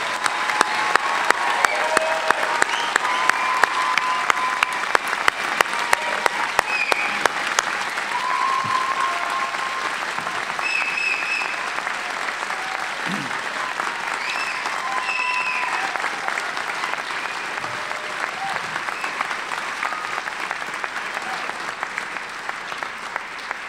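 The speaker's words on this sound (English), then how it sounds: "Let's have a round of applause for these doctoral recipients." Sustained applause from a large audience for doctoral degree recipients at a university graduate commencement, a long, even roar of clapping that fades slightly over time, with scattered voices and cheers.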